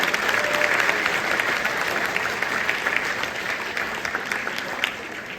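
Steady crowd applause fills a high school signing day celebration, a dense continuous clapping that holds strong for several seconds and eases slightly near the end.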